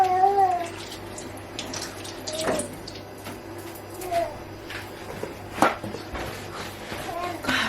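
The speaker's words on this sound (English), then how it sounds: "Let me wash my hands." Hands are washed under a running kitchen tap, with faint, uneven splashing and trickling water over a quiet room hum. Brief louder splashes are scattered throughout.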